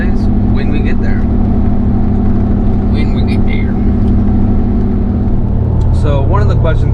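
A lifted Suburban on 40-inch tires cruises at 60 mph on the highway, a loud steady drone of road and tire noise with a low engine hum while someone talks throughout.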